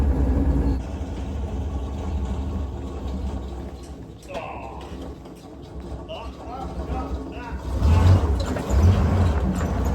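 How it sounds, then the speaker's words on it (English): A 1943 Dodge WC55 truck engine idles roughly and unevenly nearby, rumbling continuously and surging louder toward the end, with a voice talking over it. "When I tried to drop it off the hand throttle, it doesn't really do the idling thing so well."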